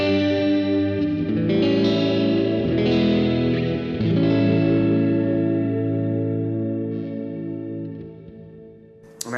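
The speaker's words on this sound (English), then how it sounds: "I just use that for sort of spacier, sort of clean sounds like this." A clean, spacey electric guitar runs through a Digitech Supernatural reverb pedal, ringing chords that swell and wash together in a long reverberant tail, fading toward the end.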